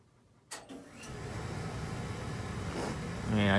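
Steady low rumble and broadband hum of an oil-fired water boiler running in a basement, continuous and moderately loud, with a brief clunk near the start and a louder surge at the end.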